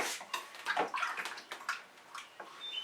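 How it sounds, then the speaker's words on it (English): Tap water runs and splashes in short uneven bursts as a paint-covered finger is rinsed off, close and fairly quiet, with no talking. "Quick rinse my finger off"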